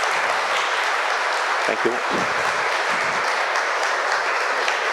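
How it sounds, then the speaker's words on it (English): Audience at a conference talk on Apache Kafka for .NET developers clapping for the speaker, a loud dense roll of applause held steady throughout, with a brief spoken thanks cutting in partway. "Please give a round of applause for him."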